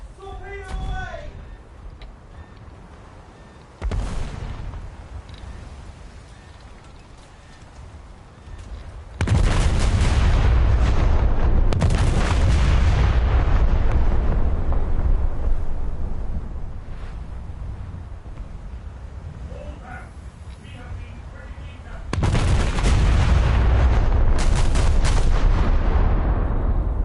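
Naval gunfire and explosions in the War Thunder video game, with heavy booming blasts and rumbling fire that build in loudness over time, heard under talk.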